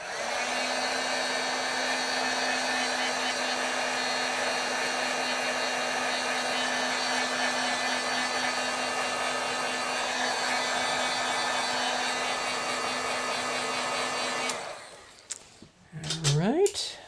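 A heat tool blows hot air to heat-set pigment ink on vellum, a loud steady close whir with a constant tone for most of the span, then cutting off and giving way to brief handling noises.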